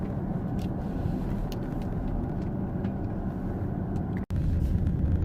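A Range Rover Vogue TDV8 is heard from inside while it is driven, with a steady low engine and road rumble that runs without a break. A single sharp click or dropout comes near the end, and no one speaks.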